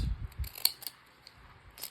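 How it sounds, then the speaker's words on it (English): Ripple-edged craft scissors snip through damp paper in a few short, close crisp cuts with soft rustling handling sounds between them, no talking. "I'll use my ripple scissors. Even that's hard to cut when it's damp."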